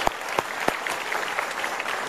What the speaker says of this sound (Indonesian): boleh sekali lagi saya minta tepuk tangannya untuk Angel, Pak Mario Teguh.